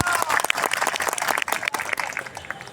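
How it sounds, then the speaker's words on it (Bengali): An audience at a stage event applauding young children, a dense patter of many hands clapping at once, fairly close and lively, with some crowd murmur mixed in. "আমি আপনাদের সবার কাছ থেকে ছোট্ট বাচ্চাদের জন্য, ফুটন্ত গোলাপদের জন্য জোরে একটি হাততালি আশা করছি"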